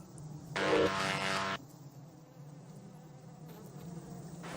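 Flies in the LEGO Star Wars video game give a loud, close buzz for about a second, then fainter buzzing follows under background game ambience.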